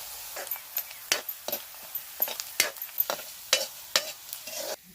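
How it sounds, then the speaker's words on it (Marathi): Chopped onion and cumin seeds fry in a pan, giving a soft sizzle broken by frequent sharp scraping stirs of a spatula against the metal, in close irregular bursts. "कांदा थोडा परतून झाल्यानंतर जिरा टाकलेला आहे आपण"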